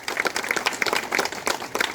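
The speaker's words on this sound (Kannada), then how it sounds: "ದಯವಿಟ್ಟು ಎಲ್ಲರೂ ಚಪ್ಪಾಳೆ ತಪ್ಪಬೇಕಾಗಿ" Audience clapping at an Independence Day celebration in a church, a short burst of fairly dense, uneven applause from a small crowd, moderately loud and close throughout.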